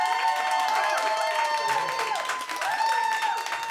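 A live audience claps and cheers for a contestant named Vanessa at a comedy gong-show competition, a dense, steady wash of applause with whoops running the full length without a break.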